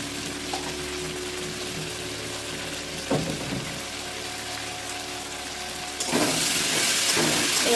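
Pangas fish curry sizzling steadily in a pan after fish masala is added, a continuous frying hiss that grows louder and brighter near the end, with a few soft stirring knocks.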